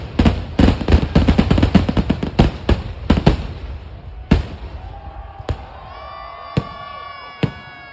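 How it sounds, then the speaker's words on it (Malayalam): A rapid barrage of loud firework bangs and crackles at a temple festival, then a few scattered booms with whistling, rising tones between them, heard from some distance across a paddy field. "ഇനിയിപ്പോൾ വെടിക്കെട്ടൊക്കെ ആണല്ലോ"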